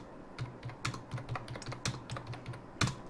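Rapid keystrokes on a computer keyboard as numbers are typed into an Excel spreadsheet, a steady run of close, crisp clicks with one heavier key strike near the end, no voices.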